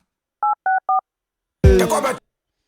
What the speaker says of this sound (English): Then there was a phone dial here, as you can hear it.